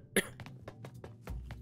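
A single loud, sharp cough close to the microphone from a person playing Psychonauts 2, followed by softer, breathy throat sounds.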